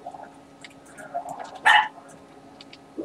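A pet poodle, one of two kept at home, gives a single sharp bark in the background, with a few faint yips around it, during a casual gaming stream with people talking.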